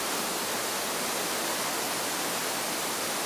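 Water spilling into the deep back chamber of Devils Cave, more than 400 feet from the entrance, where a waterfall pours in from outside; a steady, dense rushing hiss fills the space with no break and no voices.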